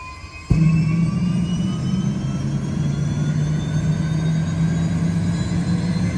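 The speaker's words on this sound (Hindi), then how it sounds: "इंजन स्टार्ट करने लगे हैं।" An army helicopter's engine starts up with a sudden loud onset, then settles into a steady, close turbine whine and low drone with rising tones that hold throughout.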